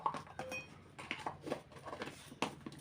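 A spoon stirs chocolate cupcake batter in a bowl, giving soft, irregular scraping and light clinks, faint and close, with no talking.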